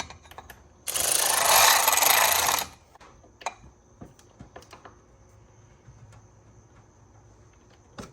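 An electric ratchet whirs in one loud burst of just under two seconds while working on a sensor on a BMW E46 engine, followed by scattered small clicks and taps.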